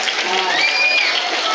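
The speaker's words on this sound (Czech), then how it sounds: "Ještě jednou potlesk pro nejmladší dívky kategorie 3. až 5. třídy" A crowd claps for the youngest girls, grades three to five, at a children's marathon at the Kutná Hora youth olympiad, a short steady burst of applause beneath a loud announcer's voice.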